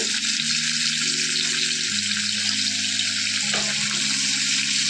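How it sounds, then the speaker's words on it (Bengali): Paneer cubes sizzle steadily in a pan over a low flame, a continuous broadband frying hiss with a low background hum and no voices. "লো ফ্লেমে রেখে তারপরে পনিরগুলোকে ভেজে নিতে হবে"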